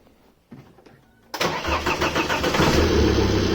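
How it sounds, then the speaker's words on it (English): A Volvo V70 2.4 diesel with faulty boost pressure control and an EGR problem: after a few faint clicks the starter cranks and the engine catches, then settles into a loud, close, steady diesel idle. "let's start the car and see how it looks like"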